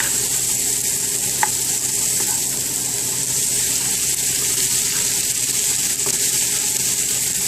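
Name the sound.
peas cooking in butter in a pan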